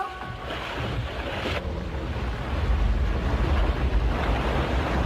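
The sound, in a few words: ship sailing on ocean waves, cartoon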